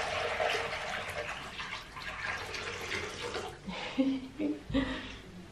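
Water heated in a saucepan splashes and pours steadily into a basin, with a person speaking over the running water.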